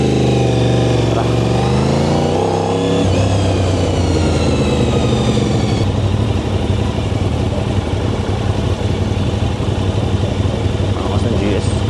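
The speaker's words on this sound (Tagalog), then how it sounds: "Mamaya paparinig ko sa inyo yung raw footage ng exhaust natin" An Aprilia RS660 motorcycle with an Arrow full exhaust system and db killer runs loud and close, its engine rising in a rev before settling into a deep, rumbling idle that fills the whole clip.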